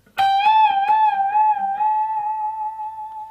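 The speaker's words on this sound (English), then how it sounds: "that ringing underneath it. This is the noise of the next string." A single bent guitar note from a song rings out clearly after a few quick picked attacks, sustaining and slowly decaying, with the adjacent string faintly ringing beneath it.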